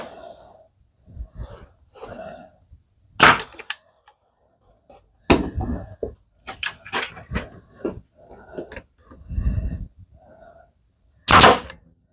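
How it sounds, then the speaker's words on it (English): A staple gun firing staples while folding legs are built for a model railway module: three sharp, loud snaps spaced several seconds apart, with quieter handling noises and brief vocal sounds between them. "My staple gun."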